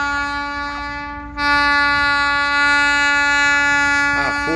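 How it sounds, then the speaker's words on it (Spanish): Alco diesel locomotive No. 8280 sounds a loud, sustained multi-tone horn as it passes near Ruta 9 Sur by La Carbonada. The horn holds steady throughout and swells louder partway through, close by and continuous. "a full tocando bocina"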